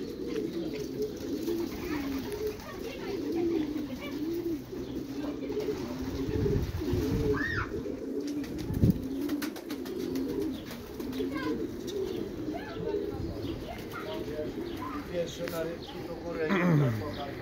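Several racing pigeons coo steadily in low, rolling calls at a breeder's loft, close and continuous, while a person talks over them at times.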